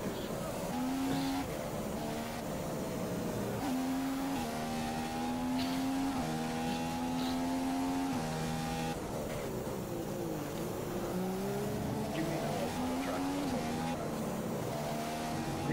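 A Formula One race car engine from the F1 2015 video game revs continuously at very high RPM, its pitch climbing and dropping through gear changes, loud and close with no pauses.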